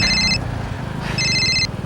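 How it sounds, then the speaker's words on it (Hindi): A mobile phone ringtone plays two bursts of bright electronic tones with a short gap between them, loud and close over a steady low background hum. "फोन आ रहा है।"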